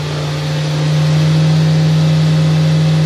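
A Fadal 4020HT machining center's spindle spinning at high speed gives a loud, steady whine with a strong tonal hum that ramps up slightly in the first second, then holds constant.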